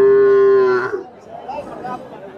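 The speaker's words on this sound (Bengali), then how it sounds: "এই যে বাছুর রয়েছে" A cow gives one long, loud moo close by at a busy cattle market, then it breaks off and leaves a murmur of crowd chatter behind.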